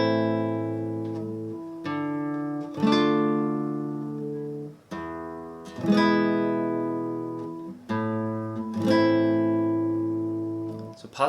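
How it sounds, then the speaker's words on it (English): A low guitar note is plucked, then a full flamenco-style chord is strummed on beat 2, the pluck-and-strum pair repeating steadily several times with ringing sustain. "we're going to add a strum after our pluck on beat 2"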